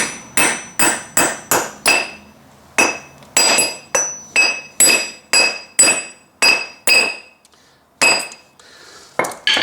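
Sharp metallic hammer blows driving pressed-in wheel studs out of a commercial mower's brake drum, about fifteen ringing strikes in quick bursts with brief pauses, close and loud.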